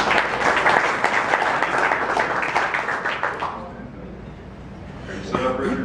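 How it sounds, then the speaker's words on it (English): An audience at a district governor's official visit applauds the board of directors, a full, steady burst of clapping that fades away partway, followed by a quieter pause and then talk resuming. "So I think we should give a round of applause for your board of directors."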